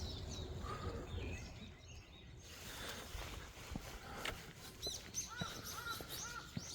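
Crows caw and smaller birds chirp around a quiet village at about 5:30 in the morning, the calls scattered and fairly distant over a steady low background hum.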